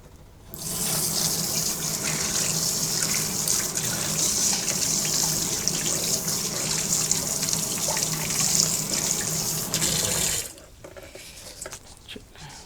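Kitchen tap running into a sink while food is washed for khow suey, a steady close rush of water that starts abruptly and stops just as suddenly, leaving quiet room noise.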